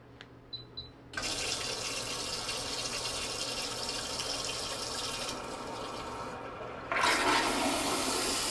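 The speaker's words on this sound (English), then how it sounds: "I'm just going to show you the flush using the remote feature here." A HOROW T38 smart toilet flushes by remote: a few soft clicks, then a sudden loud rush of water that runs steadily and surges again near the end as the bowl refills.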